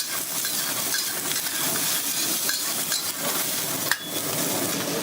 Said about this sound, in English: And then we'll give that a quick stir fry to bring up the flavor for the sauce.